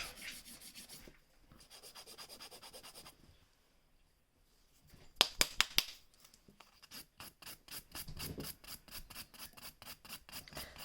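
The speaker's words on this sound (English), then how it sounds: "So as we file this out" A hand file works over an acrylic nail in rapid, rhythmic back-and-forth strokes. The raspy bursts come up close, with short pauses between passes and no talking.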